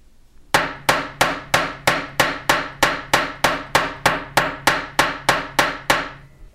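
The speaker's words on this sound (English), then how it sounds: "let me show you how easy it is to texture with this hammer." A texture hammer with an interchangeable lined face strikes a metal blank about sixteen times. The blows are sharp and evenly spaced, close and ringing briefly, and no one speaks.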